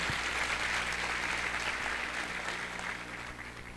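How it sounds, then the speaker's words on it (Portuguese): Audience clapping at the opening ceremony of an international congress, a steady, dense wash of applause from a large crowd that carries on throughout and fades slightly toward the end. "Mais uma salva de palmas para ele também por isso"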